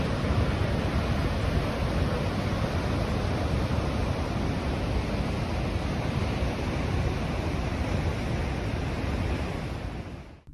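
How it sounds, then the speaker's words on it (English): Cumberland Falls, a large waterfall in the Cumberland National Forest of McCreary County, Kentucky, roaring as a steady, loud, broadband rush of falling water that holds evenly for about ten seconds with no voices. "Here's what the Cumberland Falls looks like in the Cumberland National Forest."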